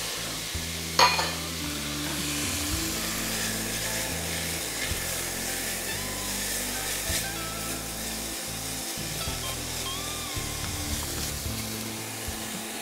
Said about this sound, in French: je vais faire revenir ça, le faire dorer